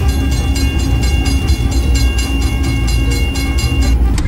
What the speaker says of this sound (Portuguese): porque o trem tá chegando